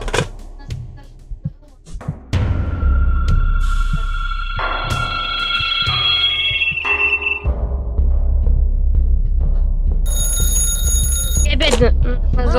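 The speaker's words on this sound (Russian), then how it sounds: "Да кто мне опять звонит?" A telephone in the game Calm Down, Stalin rings with a loud electronic trill in two long bursts, while someone talks over it.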